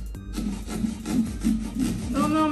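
A screwdriver scrapes and rubs through pumpkin flesh in a run of rough, rhythmic grinding strokes. They are fairly loud and close, and a voice murmurs faintly near the end.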